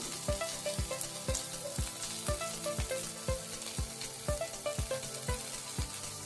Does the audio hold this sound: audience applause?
no